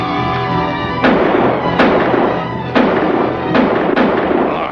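Soldiers fire guns inside a fort in a 1956 adventure film, about five separate sharp booming shots spaced irregularly over a few seconds, loud and echoing over a low background rumble.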